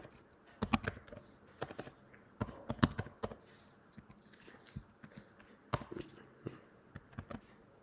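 Someone types on a computer keyboard nearby in quick bursts of crisp key clicks separated by short pauses, with no talking.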